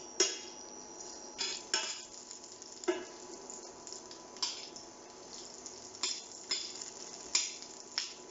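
Butter browning and foaming in a pan with paprika, with a soft, quiet sizzle under repeated clinks and scrapes of a utensil against the pan at an irregular pace.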